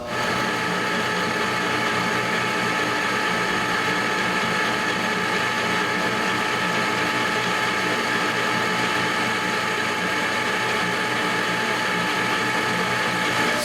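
Machine cutting a metal sphere for a measurement fixture, taking razor-thin shavings off the surface; a steady, dense mechanical whirr with a ratcheting texture runs loud and unbroken throughout.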